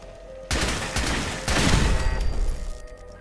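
Turret gunfire in Fallout 4 at the Nuka-World park, a sudden dense burst of rapid shots that starts after a quiet moment, then swells into a louder continuous barrage before it thins out near the end.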